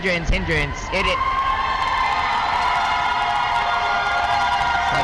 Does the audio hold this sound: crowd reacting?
yes